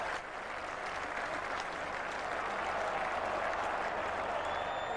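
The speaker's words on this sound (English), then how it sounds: "he earns the applause of his side there" Steady crowd applause fills a cricket ground after a fine fielding stop at the 1997 England v Australia Test, a broad, even clapping wash that holds for the full five seconds with no clear voices over it.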